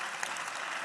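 A brief burst of dense clapping from an audience at a business summit, steady and even for under a second.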